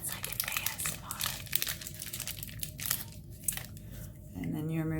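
Packaged skincare needles being unwrapped, close crinkling and tearing of plastic wrap in a steady rustle, with a voice heard faintly and a brief tonal squeak at the end.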